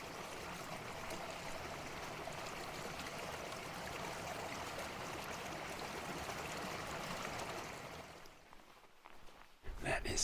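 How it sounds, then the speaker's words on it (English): Creek water flowing at a bush crossing on a footpad in mountain country, a steady broadband rush that holds evenly for about eight seconds before thinning into quieter trickles and a brief break near the end. "this is where we cross the creek"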